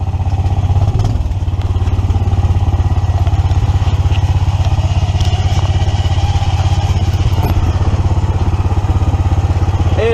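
A 1982 EZ-GO three-wheel cart fitted with a 420cc Predator engine and bald go-kart yard tires drives through a dip, its engine rumbling loud and steady throughout with occasional clatter and thumps.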